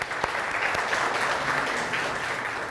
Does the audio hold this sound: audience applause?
yes